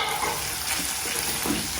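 Red onions and garlic sizzle in oil in a pan while being stirred, a bright, steady crackling hiss heard close up with no talk.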